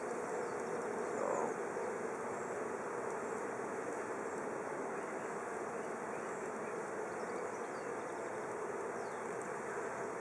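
Bees hum steadily around an open beehive as a super is being set up, a dense continuous insect drone close by with no talking.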